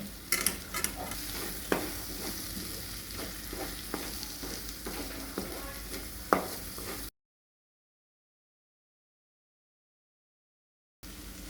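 A spoon stirs chili powder through a sizzling dhaba-style tadka in a pan, with close frying hiss and scattered scraping clinks, then the sound drops out to silence before briefly returning.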